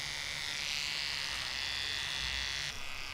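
Electric shaver buzzing steadily as it shaves a man's head on both sides, a close, continuous high whine that cuts off briefly near the end.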